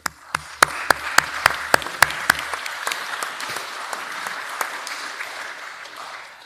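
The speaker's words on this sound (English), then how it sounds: "Let us all applaud each one of them for their dedication and willingness to serve." Applause at a city council meeting honours candidates for their service. A few sharp, close, rhythmic claps lead the way over a broad wash of room-wide clapping, which gradually fades.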